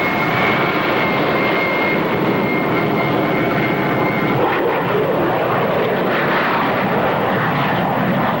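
Carrier aircraft droning overhead, a loud, steady propeller-engine roar that never lets up, with a faint tone early on and no talk.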